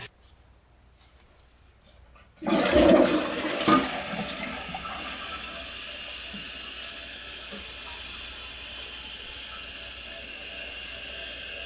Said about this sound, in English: Now turn the water on, let the toilet fill up, and then you're going to flush it and see if there's any water leaking out underneath.